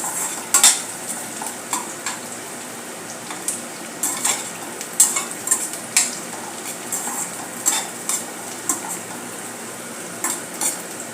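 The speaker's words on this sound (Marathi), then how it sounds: "मिरची कमी जास्त करू शकता अशा प्रकारे आपल्याला चांगले परतून घ्यायचे आहे" Onion and green chillies stir-fry in a pan for kanda poha, a steady soft sizzle broken by frequent sharp scrapes and clinks of a spatula against the metal, close up with no talking.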